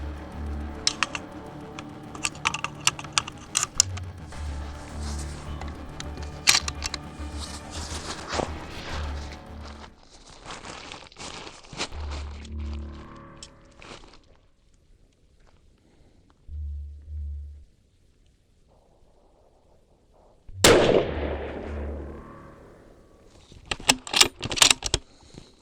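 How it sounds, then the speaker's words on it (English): Five .308 Win rounds, 168-grain Sierra MatchKing, loaded into a 16-inch-barrel rifle, giving metallic clicks and rattling clatter in busy spells, then quiet gaps and a final sharp snap and click near the end. "let's load up another 5 rounds"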